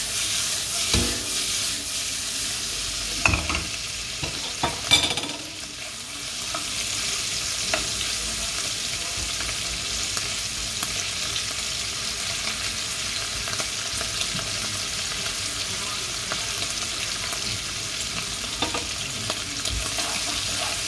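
Guanciale sizzles and crackles steadily in a hot pan as it browns, with a few clinks and scrapes of stirring near the start, continuous and close.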